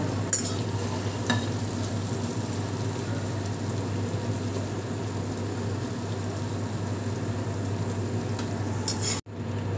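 Whole spices (star anise, green cardamom, a cinnamon stick) fry in hot oil with a constant, even sizzle throughout, a couple of faint clinks near the start and a brief break near the end.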